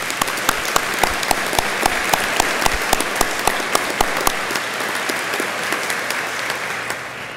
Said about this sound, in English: I would hope that you would join me with a round of applause for their work